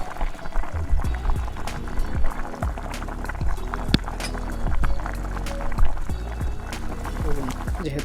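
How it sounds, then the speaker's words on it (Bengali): Chicken kosha cooks down in a pan, bubbling and hissing steadily as the last of its water dries off, with occasional stirring and light background music. "এটাকে আমি আরও ভালো করে 2 থেকে 3 মিনিট কষিয়ে নেব, যাতে যতটুকু জল রয়েছে সেটা পুরোপুরি শুকিয়ে যায়।"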